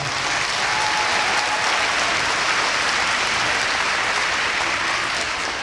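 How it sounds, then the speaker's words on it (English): Sustained audience applause fills an arena at a figure-skating charity event, a dense steady wash of clapping from a large crowd with no talk over it. "give it a round of applause"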